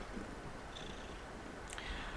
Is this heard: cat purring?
yes